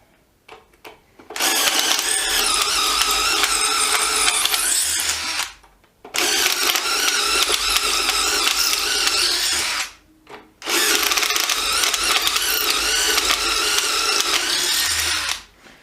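A DEWALT 12V brushless DCF801 impact driver runs in three sustained bursts of a few seconds each, separated by short pauses, loud and close with no talking.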